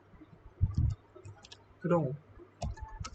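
Soft, scattered clicks of fingers typing on a computer keyboard, a few quick keystrokes at a time, heard under someone speaking.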